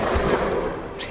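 A single sharp gunshot booms close and loud, then leaves a short dull rumble.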